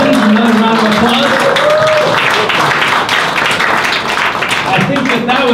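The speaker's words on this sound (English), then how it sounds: "Another round of applause." An audience at a Science on Tap talk applauds, a dense round of clapping that carries on for several seconds, with a voice speaking over the start.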